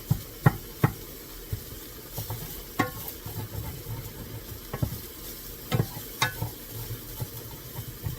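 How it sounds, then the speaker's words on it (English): Italian sausage frying in a pan while being stirred, soft sizzling under scattered scraping knocks of the utensil, quiet and close. "I'm still over here stirring my sausage, cooking that"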